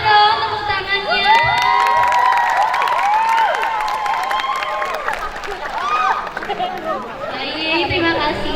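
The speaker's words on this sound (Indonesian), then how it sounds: "boleh dong tepuk tangannya." A lively crowd of children at a Maulid Nabi religious gathering cheers and shouts with scattered clapping, many high voices overlapping in an excited, noisy din.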